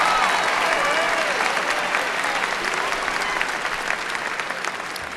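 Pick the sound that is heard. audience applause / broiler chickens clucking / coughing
audience applause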